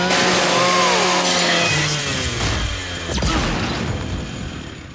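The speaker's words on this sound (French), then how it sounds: "Utilise la tronçonneuse de ton Lanzor." A Lancer rifle's chainsaw bayonet revs in Gears 5, a harsh buzzing whine that holds for several seconds over a dense bed of game sound, then fades toward the end.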